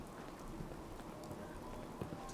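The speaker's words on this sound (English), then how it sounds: "Oh, listen to that thunder and rain." Steady rain pattering on surfaces in Fallout 4, with faint low rumbles of thunder in the background, fairly quiet and continuous.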